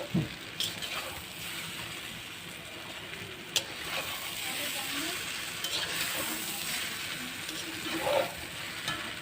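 Stuffed pointed gourd (potol) dropped into hot oil in a pan, a close, steady sizzle and crackle with a few sharp pops and stirring clatters along the way.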